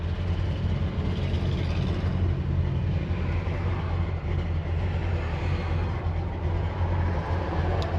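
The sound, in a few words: pickup truck engine exhaust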